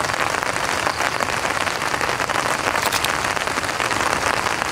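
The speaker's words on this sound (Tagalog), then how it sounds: "Ganda ng ulan." Steady rain patters densely on a surface nearby at a riverside campsite, a constant hiss with no breaks.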